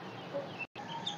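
Soft clucking from chickens, faint and close, with a brief dropout of silence partway through.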